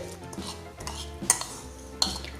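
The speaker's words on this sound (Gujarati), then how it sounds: "બધું બરાબર મિક્સ કરી લઈએ." A multi-seed mukhwas mixture is stirred with lemon juice in a bowl, giving soft scraping swirls and a few sharp clinks of a spoon against the dish, close and quiet with no talking.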